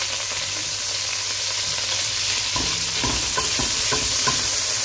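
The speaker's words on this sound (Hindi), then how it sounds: "तो सबसे पहले हम अपने पैन के अंदर डालेंगे कि बटर।" Butter melting in a pan makes a continuous close sizzle and hiss, joined midway by light scraping and stirring taps that grow a little busier toward the end.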